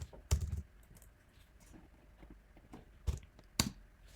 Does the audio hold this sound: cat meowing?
no